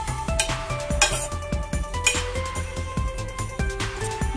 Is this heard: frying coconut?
yes